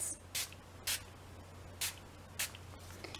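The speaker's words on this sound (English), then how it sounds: "Spritz, spritz." A spray bottle spritzes Brusho color onto a card, with four short separate sprays spaced irregularly over a quiet background hum.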